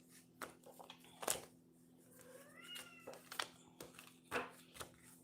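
A house cat meows several times, rising and falling cries scattered between sharp crinkling and shuffling handling noises close by in a quiet room with a steady low hum.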